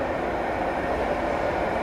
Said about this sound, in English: There you see the train approaching,